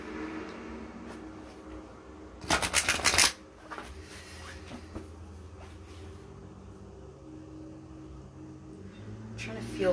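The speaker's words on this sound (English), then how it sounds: "I'm gonna see if I can pull out 3 cards" A deck of cards is shuffled for a tarot-style reading, a short burst of riffling lasting about a second, set against a quiet room with a person speaking softly around it.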